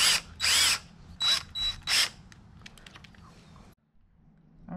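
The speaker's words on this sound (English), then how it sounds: "So now we're all set to put the screws in." Power drill driving screws into pre-drilled holes in wood for a DIY water limbo frame: four loud whirring bursts with short pauses between them, then a quieter stretch of faint clicks and rattles before near silence.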